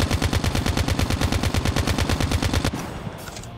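Sustained automatic fire from a KN-44 rifle in COD Mobile, a rapid steady burst of loud shots for about two and a half seconds, then an abrupt stop leaving a fading tail.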